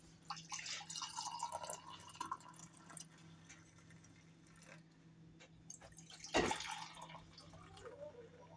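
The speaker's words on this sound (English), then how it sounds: "let's pour it in the cup." Vanilla chai latte pours and trickles into a cup, soft dripping and splashing with a brief louder gush partway through, quiet and close.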